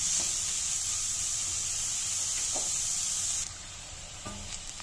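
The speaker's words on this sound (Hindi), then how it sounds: "और प्याज को भी हम भूनेंगे लगातार चलाते हुए" Chopped onions sizzle steadily in about a tablespoon of oil in a pan, with occasional scrapes and knocks of a spoon stirring them; the hiss stays close and even, dropping slightly in level near the end.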